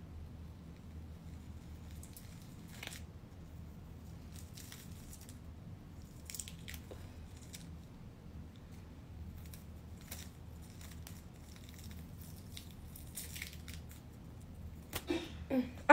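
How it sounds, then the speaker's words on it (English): 3D clown special-effects makeup peels slowly off skin with faint, close sticky crackles and soft squishes over a low background hum, ending in a sharper crackle. "let's peel this off"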